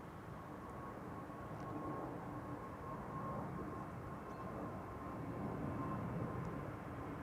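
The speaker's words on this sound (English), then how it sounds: "first this is an E2 Embraer to Trondheim" Embraer E2 jet departing Amsterdam Schiphol for Trondheim, a faint, steady distant engine rumble with a thin whine held throughout and no voices.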